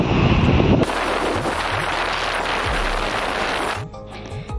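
Strong wind blows at a riverside picnic spot near a sluice gate at Bhairav Kunda. Loud gusts batter the microphone with a roaring rush that shifts abruptly, then eases toward the end.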